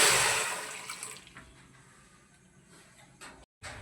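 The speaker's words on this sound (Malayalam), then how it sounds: "വേവാൻ ആവശ്യമായ വെള്ളം ഒഴിച്ച് കൊടുക്കാം" A brief rush of water pours at close range into a cooker of tapioca pieces, loud at first and fading within a second, followed by quiet clatter.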